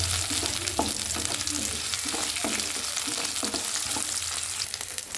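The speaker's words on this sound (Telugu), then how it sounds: "కట్ చేసుకున్న అల్లం, వెల్లుల్లి వేసుకోవాలి. ఇవి కూడా లైట్గా ఫ్రై అయితే సరిపోయిద్ది." Chopped ginger and garlic frying in a pan, a loud, steady close-up sizzle with repeated scraping stirs of a spatula running through it, no voices.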